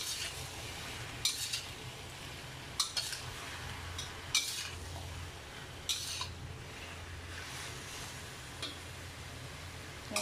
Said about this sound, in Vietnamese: Để vô miếng mỡ tỏi nè, mình xào gì cho nấm mình nó thơm.